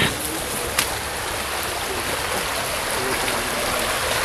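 A shallow creek flows steadily nearby, a constant rushing, trickling wash with no pauses and one brief knock early on; no talk is heard.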